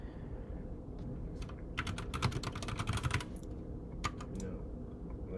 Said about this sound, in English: Just typing in all my information.